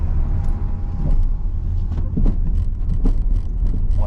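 A car accelerates on a road during a driving lesson, its engine a steady low rumble with faint road noise and small interior rattles, heard from inside the cabin.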